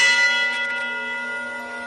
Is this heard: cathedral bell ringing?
yes